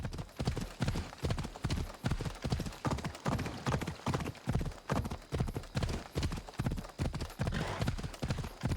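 Horse hooves gallop in Assassin's Creed Odyssey: a steady, fast, loud clip-clop rhythm runs through the whole stretch, with no talk over it.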